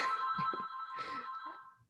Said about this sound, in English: Sorry about the ringing in the background.